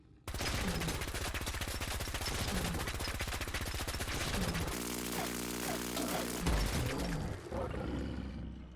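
A laser LMG firing at a Deathclaw in the video game Fallout 4, a long rapid stream of fast evenly spaced shots, loud and continuous, with a growling creature near the end.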